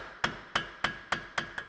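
A hammer strikes a punch to free an axle from the hub on a 2010 Ford Explorer Sport Trac, six sharp metallic taps at an even rhythm, close and alone.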